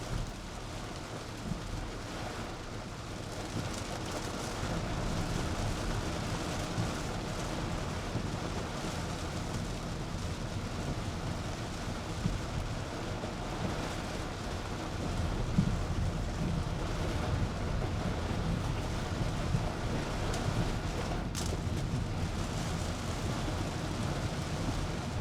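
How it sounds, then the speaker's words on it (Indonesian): Steady rain drums on the body and roof of a 2023 Xenia 1.5 R CVT, heard from inside the cabin as a dense, unbroken wash of noise lasting throughout, with no talking. "Oh, hujannya masih terus bro."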